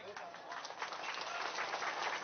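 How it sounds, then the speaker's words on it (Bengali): A crowd at a BJP political event applauds steadily in welcome for a party leader, a continuous dense clapping throughout the short stretch, with a voice speaking over it. "সবাই মিলে করতালির মাধ্যমে"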